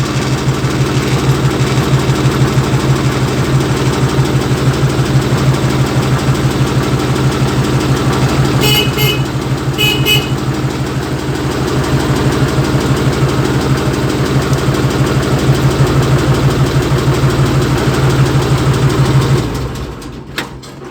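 A repaired Foton 244 tractor engine idles steadily for about twenty seconds, a loud continuous diesel rumble with an even low throb, a couple of brief metallic clicks midway, and the sound cutting off near the end.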